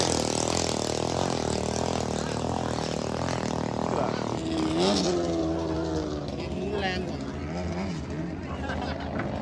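A powerful twin-turbo racing boat engine roars steadily at Thai boat races, rising and falling in pitch as it revs, with people talking underneath throughout.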